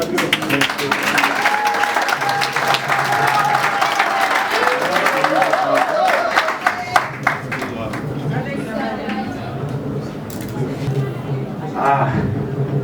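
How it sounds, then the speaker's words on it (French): Wedding guests clap loudly and continuously at a ceremony, with cheering and crowd chatter mixed in, the applause tapering off and giving way to murmuring voices. "Applaudissez."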